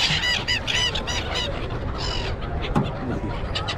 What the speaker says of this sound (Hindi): हाथ से दाना चुकते हुए पंछी